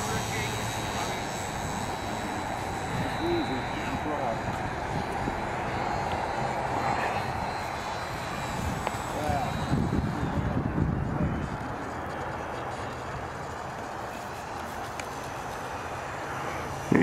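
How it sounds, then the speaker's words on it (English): A Super Cub Gold Edition light airplane making a slow flyby, its engine a steady droning hum that swells a little as it passes, with people talking throughout. "Here he comes on the Gold Edition slow flyby."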